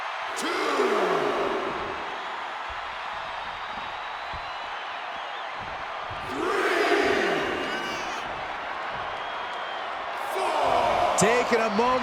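A wrestling arena crowd in the WWE 2K25 video game roars and cheers continuously, swelling in loud surges, with game commentary and impact sounds mixed in.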